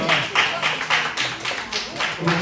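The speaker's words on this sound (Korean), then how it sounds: "박수로 맞이하겠습니다. 우리 목자님들." A high school church congregation claps in a steady rhythmic beat to welcome the shepherds forward, about ten even claps close and clear, with faint voices underneath.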